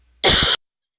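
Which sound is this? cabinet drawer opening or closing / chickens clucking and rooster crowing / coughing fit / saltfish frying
coughing fit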